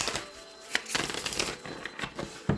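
Tarot cards being shuffled by hand in soft, papery bursts of riffling and sliding, a few sharper taps at the start and end, close and fairly quiet with no talking.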